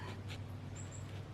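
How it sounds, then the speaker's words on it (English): Dogs whimpering faintly in the background indoors, a couple of soft high whines over a steady low hum, with no talking. "I'm sorry, you can hear my dogs in the background."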